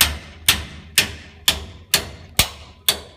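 A sledgehammer strikes a stuck lathe handle in a woodworking shop: seven sharp, evenly spaced metallic blows about half a second apart, each loud and close with a short ringing decay.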